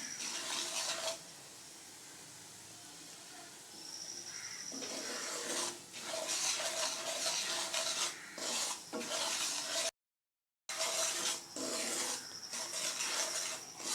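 Semolina being stirred and dry-roasted in a pan for a sweet, a soft continuous scraping and rustling of grains against metal, with repeated spoon strokes and a brief silent gap partway through.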